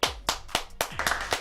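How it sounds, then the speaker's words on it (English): Crowd clapping hands in rhythm during a live Dallas Cowboys 2023 NFL Draft day event, with sharp, evenly spaced claps about every quarter second, loud and close, with no talk. "Let's clap it up."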